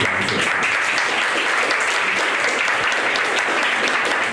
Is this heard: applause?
yes